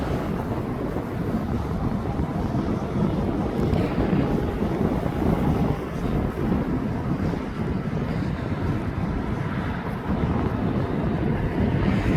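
A Boeing 737 MAX 8 at East Midlands Airport makes a steady, loud jet roar that holds for the whole stretch, mixed with heavy wind buffeting on the microphone.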